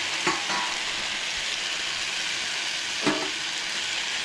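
Tomatoes stirred into onions frying in a pan, a steady broadband sizzle with two brief scraping stir strokes near the start and one later, no talk.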